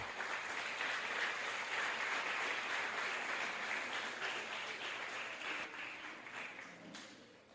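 A church congregation at a missionary service applauds, a faint, sustained wash of many hands clapping that holds for several seconds and slowly tapers off.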